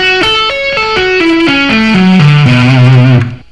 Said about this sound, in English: So, at a slow tempo, the arpeggio sounds like this.